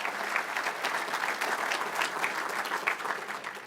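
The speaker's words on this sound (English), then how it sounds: "Let's have a nice round of applause for the staff and management at Mr." Banquet audience in a restaurant applauding staff and management, a steady, dense clapping from a room of people that carries on for several seconds at moderate distance.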